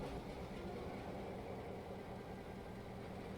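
A locomotive diesel engine idling steadily in the cab after the starter is hit on Cape Rail, a low, even rumble at moderate level with no voices.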